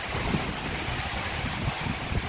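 Storm wind roars steadily with crashing waves during a cyclone in Jordan, a loud, continuous broadband rush with low buffeting gusts against the microphone and no speech.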